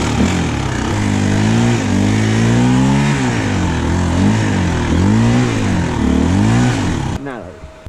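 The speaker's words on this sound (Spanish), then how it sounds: "la moto encallada aquí otra vez" A KTM motocross motorcycle stuck in snow revs loudly and continuously, its pitch rising and falling in repeated surges for about seven seconds before cutting off abruptly, with voices talking over it.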